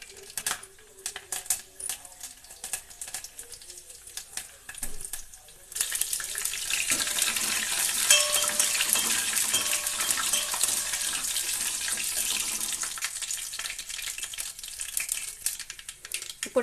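Curry leaves, dried red chillies, cumin, mustard seeds and garlic hit hot oil together, bursting into a loud, steady sizzle after quieter kitchen clatter, then crackling on continuously with faint stirring.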